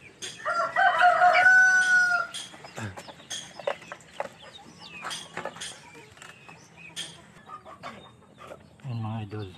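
In a backyard poultry farm, a rooster crows loudly near the start, followed by scattered clucks and short calls from chickens, with another crow toward the end and someone speaking in between.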